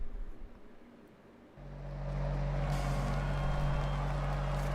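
A Mercedes-AMG One in Forza Horizon sits quiet, then its engine surges into a loud, steady droning roar that holds at high revs.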